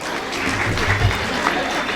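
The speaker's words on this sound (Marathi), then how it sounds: "लवकर यांच्यासाठी जोरात टाळ्या वाजवू आपण" A crowd claps together for a winner at a jewellers' lucky draw in Pandharpur, a steady wash of applause at moderate loudness that holds for the whole moment.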